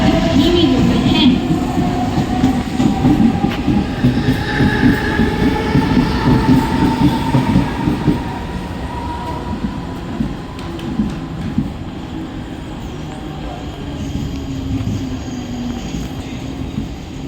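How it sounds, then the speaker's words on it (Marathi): A Mumbai slow local train bound for Kalyan stands at platform 1, loud and close, with a rumbling engine and wheel drone, rhythmic clatter and squeals that ease off partway through, while a voice speaks nearby. "प्लॅटफॉर्म क्रमांक 1 वर आलेली लोकल 8 वाजून 14 मिनिटांची कल्याणला जाणारी धीमी लोकल आहे"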